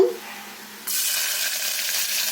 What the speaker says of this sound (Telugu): వేడయ్యాక ఇందులో మనం కట్ చేసుకున్న ఉల్లిపాయ ముక్కలు